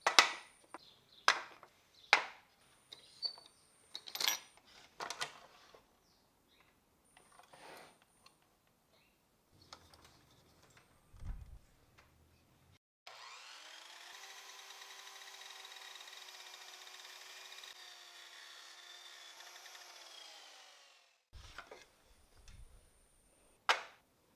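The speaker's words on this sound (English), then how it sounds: "On the miter saw, I'll cut these two parts in half." A miter saw cuts wood pieces: a run of clunks and clicks from handling, then a steady high whine lasting several seconds as the blade spins through the wood, followed by more knocks, close by with no talking.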